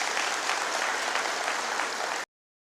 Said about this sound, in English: Round of applause for our graduating class.